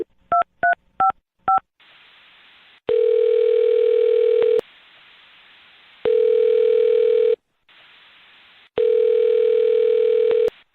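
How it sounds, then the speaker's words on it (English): Four quick touch-tone beeps dial a phone number on a radio show, followed by three long, loud ringback tones separated by short pauses, with no voices. "I'm going to dial her phone number right now"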